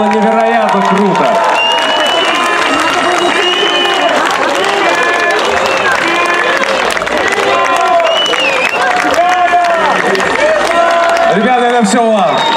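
An audience claps and cheers loudly and steadily for a folk band at an outdoor folk festival in Suzdal, a continuous roar of hands and shouts with a voice calling out over the crowd.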